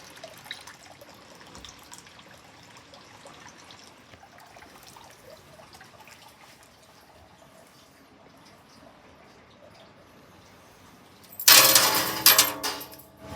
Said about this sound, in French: Je mets des petites pièces.